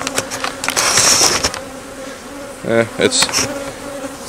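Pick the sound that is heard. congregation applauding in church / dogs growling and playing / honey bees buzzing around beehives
honey bees buzzing around beehives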